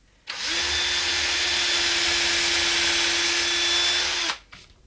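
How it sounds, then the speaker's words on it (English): Power drill boring into a Les Paul guitar body, one sustained whirring whine that starts abruptly, holds steady for about four seconds, then cuts off. "Be careful so you don't drill through the body"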